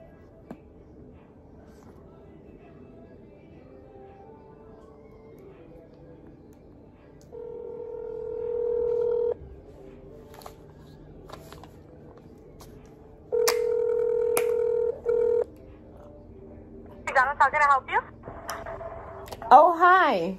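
A phone call to McDonald's: quiet room hiss, then two long steady ringback tones a few seconds apart, followed by warbling electronic phone sounds and a voice at the end.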